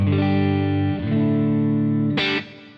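Sustained electric guitar chords through a Divided By 13 CJ11 tweed-style amp, washed in Lexicon 224 reverb and light Precision delay, with a bright strum near the end ringing out and fading.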